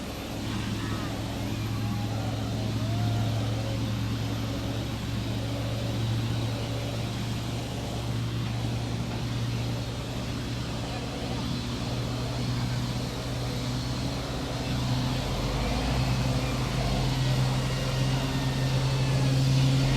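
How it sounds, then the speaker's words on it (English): Hong Kong Express airliner engines spooling up for start at Subang Airport, a steady low drone with a broad roar that swells slightly toward the end, continuous and fairly loud on an airside ramp. "we can take a walk out here as well as the engine start commences"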